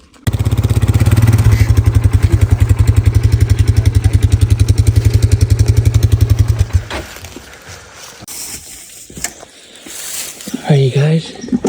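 A four-wheeler ATV engine runs loud and close with a steady pulsing idle hum for several seconds, then cuts off, leaving rustling and a few voices in the woods after a Pennsylvania archery deer hunt.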